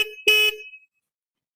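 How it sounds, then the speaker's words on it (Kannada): A Triumph Scrambler 400X motorcycle's horn gives one short, loud honk, heard close up on a rainy day, then silence follows. "ಒಂದ್ಸರಿ ಹಾರ್ನ್ ಚೆಕ್ ಮಾಡೋಣ."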